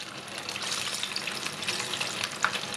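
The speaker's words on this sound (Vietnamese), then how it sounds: "khi mà mình chiên chuối" Steady, crackling sizzle of battered bananas deep-frying in hot oil, continuous and close, with a brief louder pop near the end.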